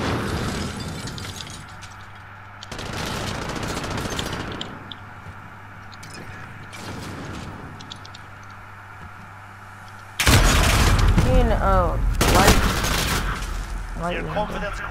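Gunfire from Call of Duty: Modern Warfare, with heavy-recoil shots and bursts over game music and effects, growing louder and denser in the last few seconds.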